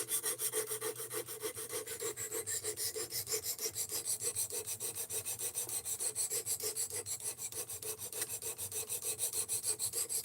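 Steady, even rasping strokes of a knife blade being sharpened on a sharpener, continuous and moderately quiet with a regular back-and-forth rhythm and no talking.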